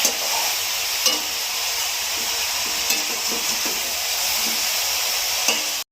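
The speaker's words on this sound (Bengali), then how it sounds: "এই যে বাঁধাকপি দিয়ে দিয়েছি, এবার কষাচ্ছি।" Cabbage being stir-fried with fish head in a pan, with a steady broad sizzle and hiss and a few soft spatula scrapes at intervals, close and constant with no talk.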